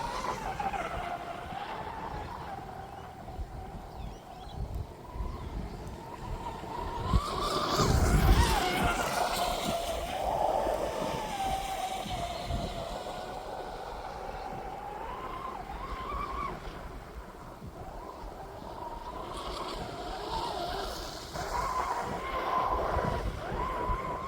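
A Proboat Blackjack 42 RC boat runs on open water, its high electric motor whine rising and falling as it turns into the wind, with hull slaps and spray swelling louder around the middle.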